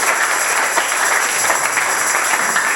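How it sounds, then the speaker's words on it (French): A church congregation applauds at a French-language sermon, a dense, even wash of clapping that stays loud and steady throughout, with no voices standing out. "Applaudissez pour le Seigneur."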